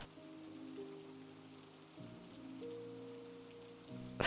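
Rain falls on a surface as a soft, steady wash beneath slow, sustained musical chords, a faint ambient backdrop in a narrated audio story, with a louder burst at the very end.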